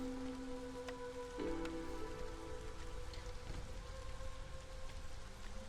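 Steady drizzling rain in the strategy game Against the Storm, a constant soft patter with scattered drops over a low hum and faint tonal lines, heard alone without talk.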